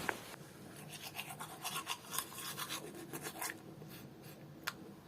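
Close, brisk toothbrush scrubbing in a mouth, with rapid rhythmic bristle strokes that keep going for several seconds with brief pauses, no talking.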